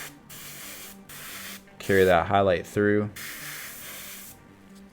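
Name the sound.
spray painting a miniature highlight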